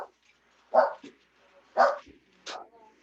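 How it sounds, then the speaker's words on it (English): A dog indoors barks as someone comes home, giving three or four sharp, separated barks that are loud and close. No one talks over them. "They come home and they make the dog all bark."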